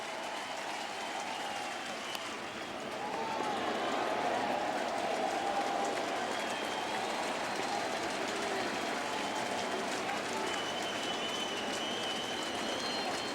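Baseball stadium crowd at a Brewers–Cardinals game rising to its feet, a broad sustained roar of cheering that swells slightly after a few seconds and holds steady throughout, dense and distant-sounding with no distinct voices.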